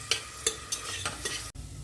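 Chopped coconut pieces fry in oil inside a pressure cooker, a soft sizzle broken by several scraping stirs of a spoon, with a brief pause near the end.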